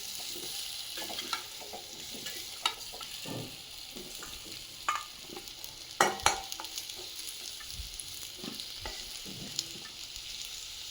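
Steady sizzle of potatoes frying in a pan, with scattered scraping and stirring clicks and a couple of louder clatters, no talking.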